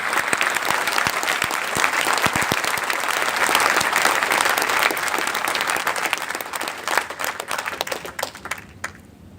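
An audience at a training meeting claps loudly and continuously, a dense burst of applause that stays strong and then thins out toward the end.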